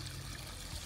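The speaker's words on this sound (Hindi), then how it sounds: "पानी जा रहा है दूसरे वाले क्यारे के अंदर" Irrigation water runs steadily into a garden bed, a brief continuous trickle and gush with no speech.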